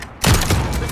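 A sharp gunshot rings out in an online shooter video game, a single close burst that hits hard and then decays quickly.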